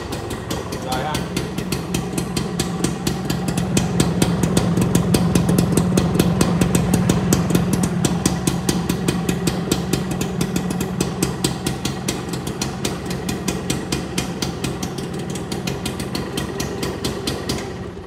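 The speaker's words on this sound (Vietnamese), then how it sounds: "em sẽ đạp thử cho mọi người nghe thôi cái tiếng máy" A Xipo 98 120cc two-stroke motorcycle engine running indoors, a loud, close, rapid popping beat that rises in revs and then settles back toward idle.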